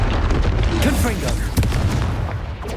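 A Confringo blasting spell explodes in Hogwarts Legacy as a close, booming burst with a rumbling tail, set among other brief blasts and pops, and a voice may be heard over it.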